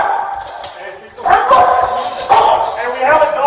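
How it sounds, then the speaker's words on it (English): Police K-9 dog on scene at a suspect arrest, giving short excited yips and barks amid loud shouting officers, with the dog's calls mixed under overlapping urgent voices. "Hey, we have a dog."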